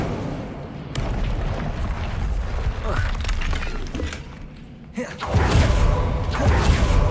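The Incendio fire spell in Hogwarts Legacy bursts into a loud, roaring whoosh that swells and sustains over dense game sound after a brief dip in the noise.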